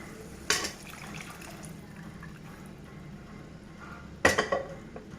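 Boiled toor dal drops into a pot of simmering rasam with two wet, splashy plops a few seconds apart, each followed by short drips and clatter over a quiet background.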